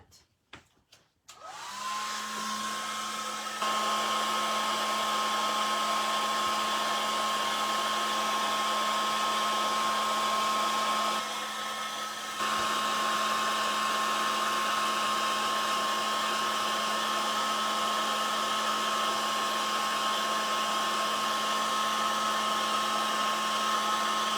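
A hair dryer blowing steadily on a recycled coffee pot craft, starting with a click and a rising whine, then a constant loud whirring drone with a slight shift in pitch partway through.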